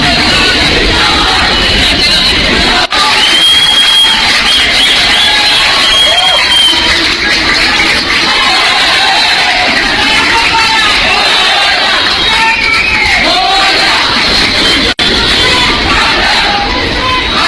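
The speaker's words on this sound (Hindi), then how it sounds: "चंद्रयान चांद पर उतरा, उसके बाद अंधेरी में भीड़ देखिए और लोगों का रिएक्शन सुनिए" Crowd in Andheri, Mumbai, reacting after the Chandrayaan moon landing, with a dense, loud roar of cheering, yelling and chatter that stays constant throughout, with whistles and shouts standing out from the babble.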